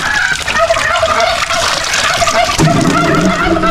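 Several turkeys gobbling in rapid, warbling bursts, loud and close, with other farmyard noise mixed in.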